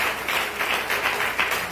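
A church congregation claps in celebration, rapid rhythmic applause from many hands filling the room steadily and fairly loud.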